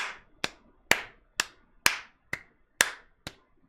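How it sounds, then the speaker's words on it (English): Eight crisp, sharp hand claps in an even steady rhythm, close and dry in a quiet room, each snap decaying quickly before the next, with no talking. "That is clapping in eighth notes"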